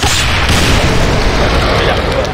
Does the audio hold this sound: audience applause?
no